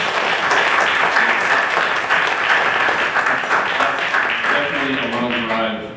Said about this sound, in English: let's maybe give them a round of applause